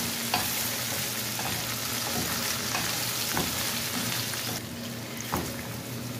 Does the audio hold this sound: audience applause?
no